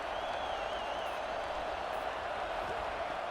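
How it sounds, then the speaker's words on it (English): A stadium crowd in a college football video game, Oklahoma versus Colorado, roars steadily as a broadband wash of noise, with a faint whistle-like tone riding on top, before a red zone stop. "This crowd is trying to inspire this defense to make a big red zone stop."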